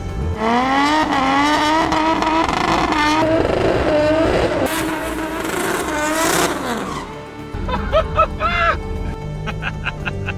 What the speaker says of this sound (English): Doing a skid